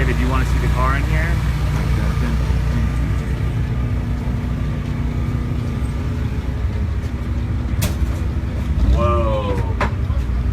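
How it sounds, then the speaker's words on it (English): A fuel altered drag racing car idling nearby with a heavy, loping low rumble, under steady background noise while a person talks over it. "This is a fuel altar."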